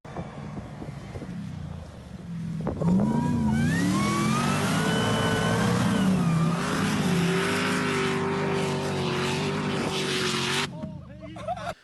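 A powerful Nissan Patrol V8 engine roars and revs up, its pitch climbing and wavering for several seconds before cutting off, loud and close with wind noise.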